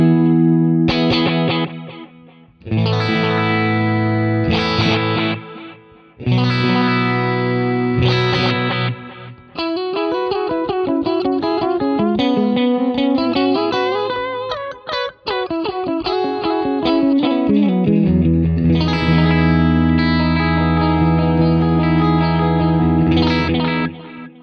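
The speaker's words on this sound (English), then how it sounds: "you get this kind of really wide stereo detune pan thing" Guitar through an Axe-Fx III with a circular detune delay, sweeping wide stereo detuned echoes over played chords and picked lines, loud and continuous with shimmering, chorused repeats and no talking.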